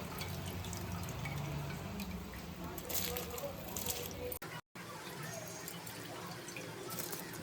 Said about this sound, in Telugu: వాటర్ బాగా మరిగిందండి ఇప్పుడు నేను రైస్ వేసుకుంటున్నానండి